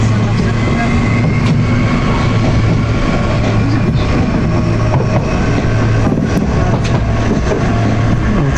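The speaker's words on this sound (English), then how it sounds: "Old train." An old train rumbles along loudly and continuously, with a steady low roar and rattling throughout.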